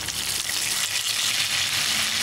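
Big onion pieces dropped into a hot pan and frying in a mutton dalcha, giving a steady, loud, close sizzle that holds without a break.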